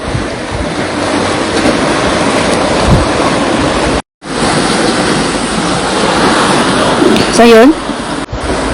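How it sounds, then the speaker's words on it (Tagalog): Ocean waves wash onto the shore at Playa, Atimon in Quezon, their broad, steady surf rushing loudly near at hand. A person speaks briefly over it, and the sound cuts out for a moment partway through. "medyo hindi na ganun kalakas yung alon katulad kanina"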